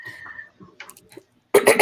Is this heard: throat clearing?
yes